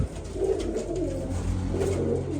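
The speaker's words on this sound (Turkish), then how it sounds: "Abi her yerde kuşumuz var. Kuş çok." Low, rolling cooing from several pigeons, overlapping and steady, close by with a faint rustle in the background.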